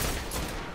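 Rapid gunfire from a weapon in a video game, a short, loud burst of fast repeated shots filling under a second, with no voices.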